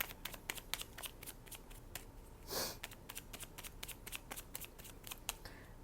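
Tarot cards are shuffled by hand in a quick, steady series of crisp riffling flicks, with a brief louder burst of cards partway through; close and fairly quiet, with no talking.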